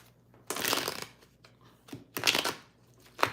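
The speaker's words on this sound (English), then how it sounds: "Need 3 more shuffles for Taurus." Tarot cards shuffled by hand in a few quick bursts of papery riffling and flicking, close up and alone, with short quiet gaps between the bursts and a final brief snap at the end.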